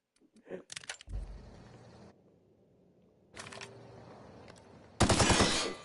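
Light assault rifle fire in the game The Outer Worlds, heard as several sharp, loud bursts of rapid shots separated by quieter gaps, with the final burst the loudest and closest.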